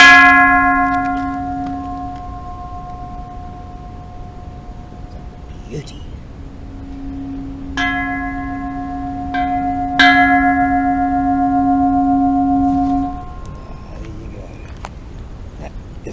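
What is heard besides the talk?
Buddhist temple bell struck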